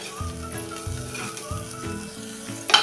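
Bitter gourd being sautéed in a pan with tamarind and jaggery, soft close sizzling under rhythmic low scraping strokes of a spoon stirring, repeated about four times, with no voices.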